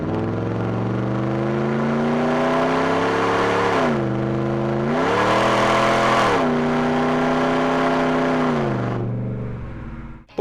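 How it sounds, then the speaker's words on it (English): A Ford F-150 with the 5.0L V8 and a Flowmaster cat-back exhaust revs loudly and steadily, its deep harmonic drone rising in two throttle blips before dropping back to idle, with no voices. "a rock-solid system with that iconic Flowmaster tone"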